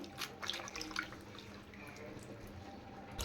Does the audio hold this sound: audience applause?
no